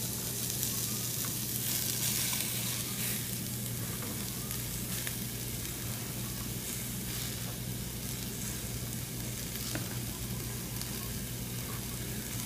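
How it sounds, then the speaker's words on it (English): Onions tipped into a dry cast iron skillet over medium heat set off a steady, dense crackling sizzle with a few faint scrapes. It stays continuous and close throughout, with no voices. "I'm going to add all of these onions to the skillet without any oil in there"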